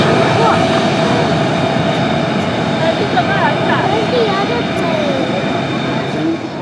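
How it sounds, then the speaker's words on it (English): A Lockheed Martin F-35A fighter jet flies a demonstration at the Joint Base Andrews Air & Space Expo, a loud sustained engine roar that swells and recedes across the sky, with crowd chatter and announcer talk mixed underneath. "What an incredible demonstration from our newest fifth generation fighter, the F-35A."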